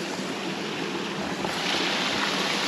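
Waterfall on Dartmoor in Devon, a steady rushing broadband roar that swells slightly toward the end, near and constant with no voices.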